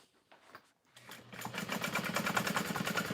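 A sewing machine stitching the top seam of a vinyl and lining tote bag starts after a few quiet handling sounds, then runs in a fast, even, close rhythmic chatter.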